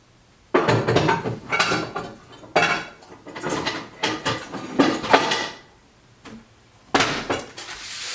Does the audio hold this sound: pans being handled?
yes